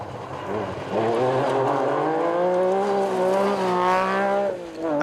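A BMW 325 rally car on a stage of the Neath Valley Rally howls past close by, its engine note climbing through strong harmonics as it accelerates, then dropping away as it passes.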